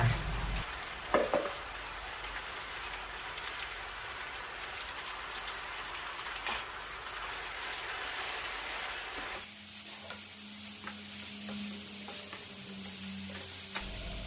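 Korean vermicelli stir-fried with cabbage and carrot, a soft steady sizzle with occasional spatula scrapes and taps, close and fairly quiet, settling into a lower hiss partway through.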